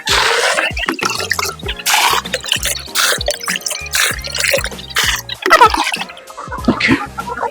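Water poured into a drinker for farm chickens during hot weather, heard as a run of close, wet drips and splashes with uneven rhythm, fairly loud and steady across the whole stretch.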